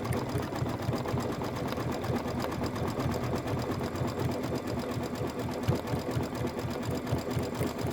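An embroidery sewing machine stitches a satin outline, its needle hammering in a fast, steady rhythm that stays close and even throughout, with no talking.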